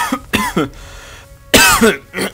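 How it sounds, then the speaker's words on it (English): Several sharp coughs and raspy throat clearing, close and loud, in bursts separated by short pauses. "Just had to clear my throat a little bit there."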